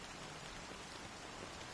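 Rain falling in a cutscene from the video game Honkai Star Rail, a soft, steady patter of drops on surfaces, quiet and continuous with no other sounds.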